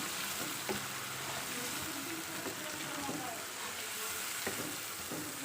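Ground tomato puree being stirred into frying masala for Hyderabadi chicken chole, a soft steady sizzle with occasional light utensil taps, quiet and close.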